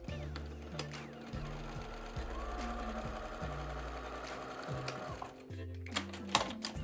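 A sewing machine stitches cotton fabric squares for a patriotic table runner in short close bursts, its motor whirring and needle chattering, pausing and restarting several times with backstitching at each seam end.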